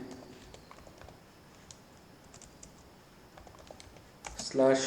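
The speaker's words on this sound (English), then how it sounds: "So in order to get more information, we can type ipconfig" Faint, scattered clicks of a computer keyboard as an ipconfig command is typed, a quiet patter of keystrokes that ends in a brief louder burst.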